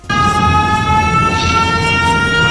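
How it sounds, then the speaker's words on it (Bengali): A Siren Head creature in a game or animation lets out a loud, sustained, droning siren wail with rich steady tones, starting abruptly and holding unbroken throughout. "সাইরেন হেডের সাইরেন্টের আওয়াজ।"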